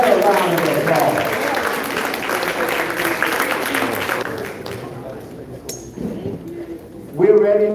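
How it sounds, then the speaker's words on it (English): Applause from an audience at a celebration honoring Fred Gray's Medal of Freedom, a broad clapping wash that tapers off over several seconds, followed by a quieter stretch with a light clink and a voice starting to speak near the end. "give that a round of applause"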